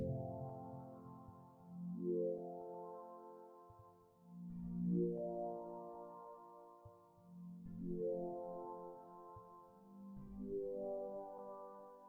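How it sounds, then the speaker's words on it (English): A soft ambient synth pad from FL Studio's Cytrus plugin holding slow chords that swell and sweep in long waves, fairly quiet and smooth, with no talking. "you can also try the pad from Cytrus."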